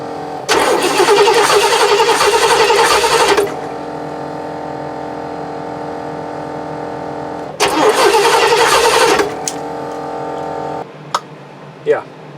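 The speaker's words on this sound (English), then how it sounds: "let's crank it and see what we got." A GMC motorhome engine cranks loudly in two separate bursts. Each burst is followed by a steady, even engine hum, with a few sharp clicks near the end.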